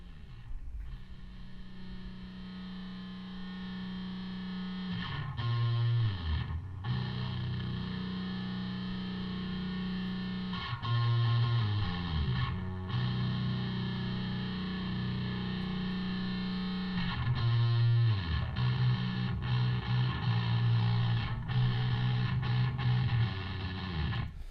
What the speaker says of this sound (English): I just ran it through the amplifier and then through some distortion.